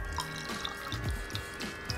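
Coolant slowly poured into a BMW E46 cooling system with the bleeder valve open, trickling down a pipe into the radiator in soft, quiet drips and splashes over a faint steady hum.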